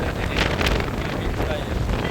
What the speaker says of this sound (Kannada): ಗಾಳಿ ಸೌಂಡ್ ಕೇಳಿಸ್ಬೇಕು